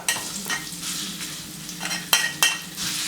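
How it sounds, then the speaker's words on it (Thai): Thai red curry paste stir-fried in a pan over low heat for northern-style chilli paste, a steady soft sizzle broken by a few scraping stirs of the spatula against the pan, close and moderately loud. "เราก็จะใส่พริกแกงลงไปผัดนะครับ"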